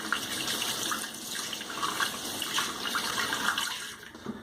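Running water splashes steadily from a tap as a safety razor with a Wilkinson Sword blade is rinsed during a head shave, close and continuous with small clinks.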